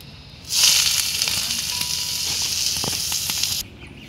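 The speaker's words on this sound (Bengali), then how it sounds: "এই যে পেঁয়াজ ভাজা হয়ে গেছে," Onions fry in hot oil in a home kitchen, a loud steady sizzle that starts abruptly, holds for about three seconds and then cuts off.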